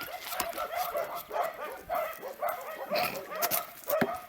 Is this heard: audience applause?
no